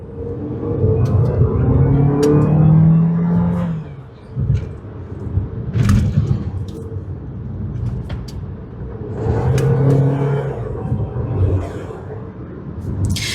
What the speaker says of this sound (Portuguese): E aí você consegue ver quanto o Renegade é gostoso de acelerar, rápido de acelerar e estável.